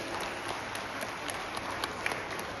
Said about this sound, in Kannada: ಒಂದು ಜೋರಾದ ಚಪ್ಪಾಳೆ ನಿಮ್ಮಿಂದ ಬರಲಿ